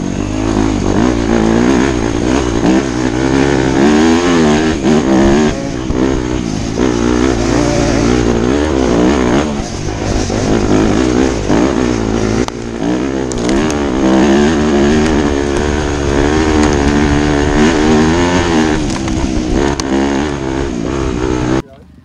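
A Yamaha Raptor quad on a fresh tire does a burnout on a mountain motocross tour in Haiti, its engine revving hard and loud at close range for over twenty seconds, with voices talking over it.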